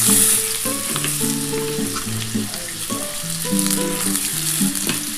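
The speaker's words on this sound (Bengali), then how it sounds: "একসাথে কিন্তু আমি এটা ভেজে নেব" Potato, egg and eggplant fry together in a pan, making a strong continuous sizzle with faint scraping and spatter ticks from stirring throughout, close and steady, with no voices.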